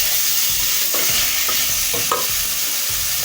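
Spices sizzle steadily in a hot pan as a utensil stirs them in a few soft scrapes, up close with no talking.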